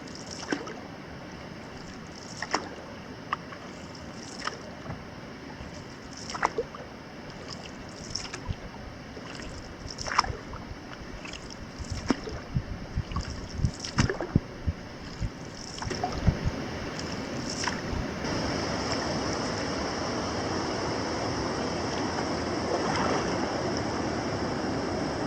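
A waterfall beside a Boundary Waters portage rushes in the distance, faint at first beneath scattered knocks and splashes, then swelling into a steady roar of falling water.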